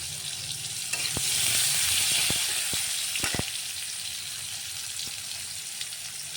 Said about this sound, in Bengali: তারপরে এই যে গোটা রসুনগুলি দিয়ে দিলাম, একসঙ্গে ভেজে নেব।